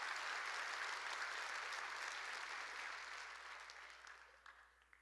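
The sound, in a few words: audience applause in church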